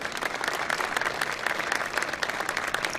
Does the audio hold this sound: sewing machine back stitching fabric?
no